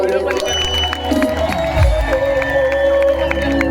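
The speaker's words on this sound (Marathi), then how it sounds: "जर त्यांचं नृत्य आवडलं असेल तर जोरदार टाळ्या होऊन जाऊया" An audience claps and cheers steadily after a Konkan naman folk dance performance, a dense wash of applause with voices mixed in.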